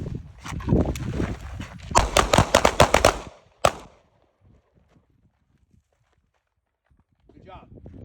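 A rapid string of loud pistol shots on an outdoor concealed carry shooting course, about eight sharp cracks in quick succession followed by one more, with an instructor's voice before and faint talk afterward.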